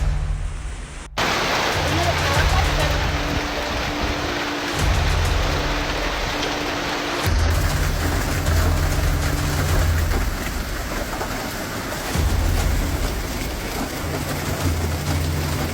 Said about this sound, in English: The storm unleashed massive hail, torrential rain, and wind gusts reaching up to 93 km/h.